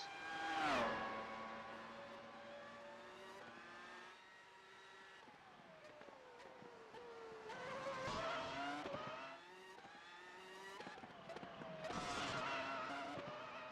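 A race car laps the Detroit street circuit in qualifying, its engine note climbing and dropping through gear changes and corners, heard at moderate distance and fairly faint.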